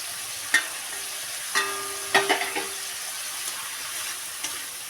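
Fried teasel gourd (kakrol) pieces are stirred in a pan: a steady, faint sizzle runs throughout, broken by a few sharp clinks and scrapes of a spatula against the metal, with no voices.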